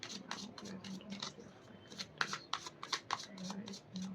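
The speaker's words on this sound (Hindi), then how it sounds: "मैं एक बार और शफल करना चाहती हूँ, कंप्लीट शफल करना चाहती हूँ मैं एक बार।" Tarot cards being shuffled in a fortune-reading setting, a run of quick papery riffles and slaps close up, with a voice speaking softly underneath for part of it.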